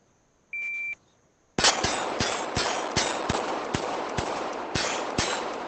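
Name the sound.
gunshots from shooting a stage in the VR game ACE VR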